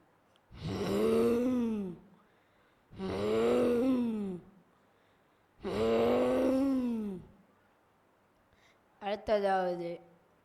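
A voice imitates a lion's roar at a school day event, giving three long, drawn-out groaning roars separated by pauses, then a shorter, broken vocal burst at the end.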